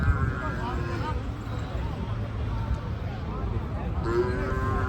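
Deep, drawn-out lowing from buffaloes at the Kurali cattle market, one near the start and another near the end, amid crowd chatter and general market noise.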